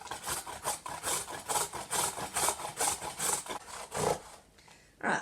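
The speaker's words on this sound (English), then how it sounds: "I'm going to grate my carrot here" A carrot is scraped across a small hand grater in quick, regular rasping strokes, about two per second, close and fairly soft, with a short pause before a final stroke.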